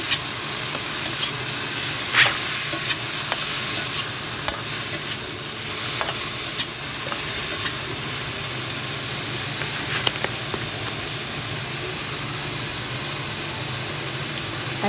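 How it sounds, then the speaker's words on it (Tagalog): Ampalaya (bitter gourd) stirred in a frying pan, with a steady oily sizzle throughout and scattered scraping clinks of the utensil against the pan, close and continuous with no voices. "Yan, haluin natin ulit."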